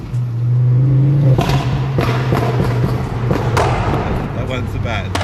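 Ford Focus RS crossing a bumpy bridge, a steady low drone with a series of thumps and rattles as the car jolts over the joints, loud and close inside the cabin.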